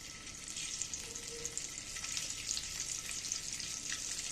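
Halved eggs fry in oil in a pan over a lowered gas flame, a steady soft sizzle and crackle that holds throughout, faint and unbroken, with no voices.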